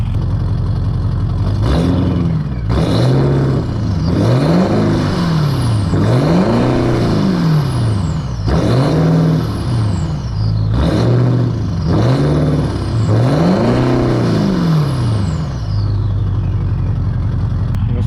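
A BMW E65 with a 4.0d V8 diesel and straight exhaust revs repeatedly, each blip rising to a gruff, booming roar and falling back to a rumbling idle in a steady rhythm, loud and close throughout.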